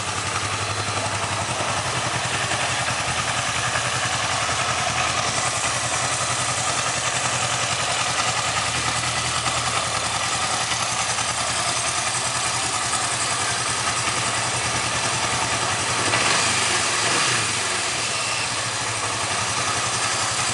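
Close, continuous running of a Kawasaki 305 motorcycle engine, a steady mid-pitched idle with slight mechanical clatter and a small blip of throttle late on, with no talking.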